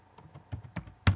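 Computer keyboard keys tapped in a short run of soft, quick presses while a map title is entered, ending in one louder keystroke at the close.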